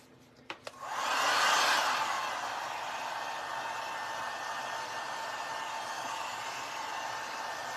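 A hair dryer switches on after a couple of sharp clicks and blows a steady, loud broadband rush over a handmade farmhouse spring porch leaner sign, holding the airflow for several seconds with no talking.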